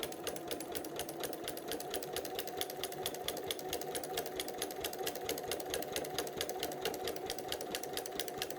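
A sewing machine stitches a quilted placemat along a line of tape over bulky seams, a close continuous motor hum with fast regular needle pulses running steadily throughout.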